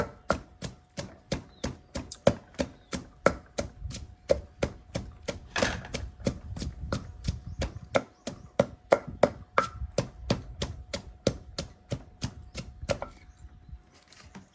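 Noni fruit is pounded with a pestle in a mortar, a steady series of sharp, close thuds about two or three per second repeating for the whole stretch, with faint background sounds between strikes.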